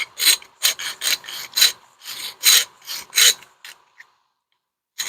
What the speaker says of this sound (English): you may need to do a little more filing outside the jig